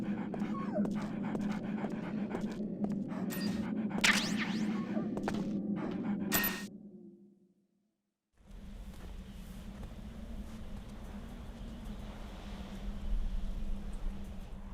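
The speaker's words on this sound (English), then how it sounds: "I thought you were good with dogs." A dog pants steadily with occasional whimpers in the Metal Gear Solid: The Twin Snakes video game. The sound runs over a low ambient hum, drops to near silence briefly, then the ambience resumes.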